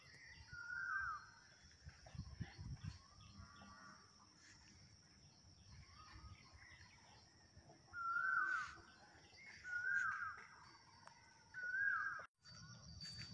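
An Asian koel calls out in open farmland, several short rising whistled notes repeated at intervals of about two seconds, mid-distance and fairly clear over quiet rural background with faint insect hum.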